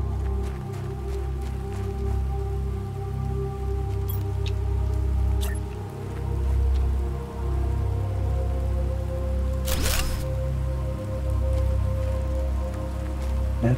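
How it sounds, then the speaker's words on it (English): Rain falls in the Planet Crafter survival game as a steady patter over a low ambient drone, continuous throughout with a brief brighter burst midway, no voices. "Here comes some more rain."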